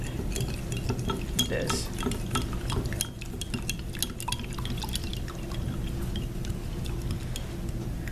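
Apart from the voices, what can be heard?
pouring hot water into gelatin and stirring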